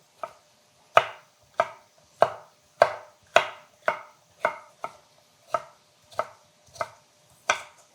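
Knife chopping vegetables on a board into pieces about the size of cucumber chunks, a dozen crisp, evenly spaced cuts heard close up and alone, no talk.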